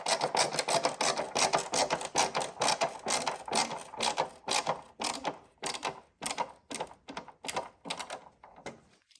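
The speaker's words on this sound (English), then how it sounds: "Now you got a lot of screws to put in here." Screws driven into an Acura TSX headlight housing, close up: a fast, rhythmic run of ratcheting clicks and rasping turns that spaces out into shorter bursts with gaps toward the end, with no talking.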